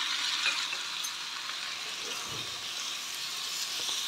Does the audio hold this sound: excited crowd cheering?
no